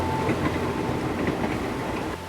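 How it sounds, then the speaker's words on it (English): The southbound Queen of the Sea passenger train runs along railway tracks in Sri Lanka, giving a continuous close rumble with a faint clickety-clack of wheels on the rails. "travelers boarded the southbound train known as the Queen of the Sea"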